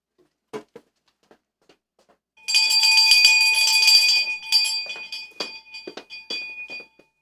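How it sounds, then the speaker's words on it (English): A bell rung repeatedly, bright sustained ringing that starts suddenly partway in and continues with a few softer taps and short knocks as it dies away, near and fairly loud. "I'll ring the bell for you."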